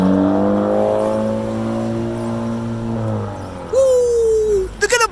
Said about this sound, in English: We ask him, rev it, bro.